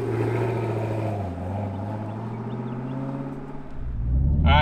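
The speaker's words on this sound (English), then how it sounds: "Let's go on throttle in my Camaro ZL1 1LE." A 2021 Chevrolet Camaro ZL1 1LE V8 muscle car pulls on throttle from inside the cabin. A loud, deep engine drone holds steady, then swells into a heavier roar toward the end.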